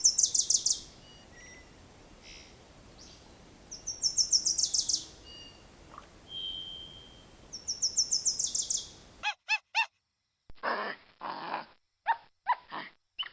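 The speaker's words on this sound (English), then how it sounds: "The immature chirping mixed with the loud sounds of the adults echo in the cave like a song of survival" Giant otter cubs in an Amazon cave give bursts of rapid, high-pitched chirps while adults answer with louder, harsher calls that ring with echo; the calls come in separate clusters with pauses between them.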